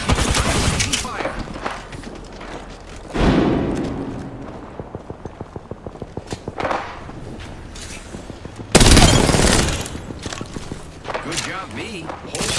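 Sustained video game gunfire, a rapid regular string of shots and heavy bursts under a talking voice, loud and close with dense battle noise throughout.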